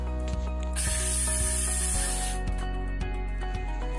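An Ossel 6-inch circular saw cuts lengthwise through plywood, a steady loud motor whine with a bright high-pitched cutting hiss through the middle of the cut, and regular ticking pulses underneath.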